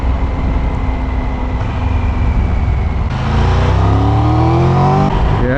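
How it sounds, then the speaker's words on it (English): A Triumph Tiger 1200 Rally Explorer motorcycle engine runs at a steady loud drone, then blips upward in a quick rev-matched downshift with the quickshifter, its pitch climbing sharply in the last seconds as the bike pulls on. "it's got that very nice rev matching on the downshift with the quick shifter"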